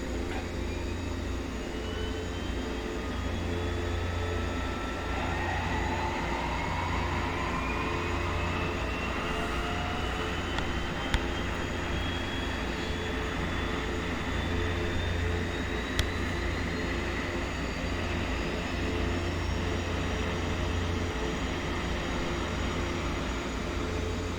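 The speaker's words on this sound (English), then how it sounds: "Start the left engine." The left engine of a DHC-6 Twin Otter turboprop spools up in the X-Plane 11 simulator, a steady droning hum with a slowly rising whine building over many seconds, no voices.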